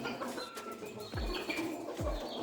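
Several short clucks and calls from laying hens, fairly close, with a couple of low thumps and a busy coop background.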